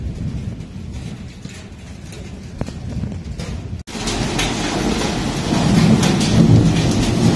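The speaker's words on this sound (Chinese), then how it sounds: "我判断的还不错吧，听一下打雷声。" Heavy rain falls outside a third-floor room in a small Chongqing-style town lodging during a thunderstorm, a dense continuous hiss with low rumbling thunder, rising louder and rougher in the second half.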